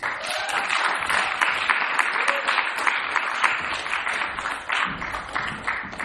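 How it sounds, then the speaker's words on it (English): An audience claps after a talk on psychedelics and birth, a lively, sustained round of applause with crisp individual claps, close and fairly loud, carrying on without pause. "Another round of applause for April, please."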